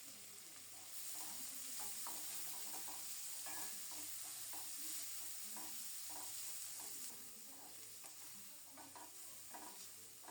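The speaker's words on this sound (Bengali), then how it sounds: "ফোড়নটা রেডি হলে কুচানো পেঁয়াজ দিয়ে দিলাম।" Chopped onions frying in mustard oil tempered with black cumin and green chillies, the same oil used to fry fish: a soft steady sizzle with repeated spatula scrapes and stirring taps, fairly quiet, no talk.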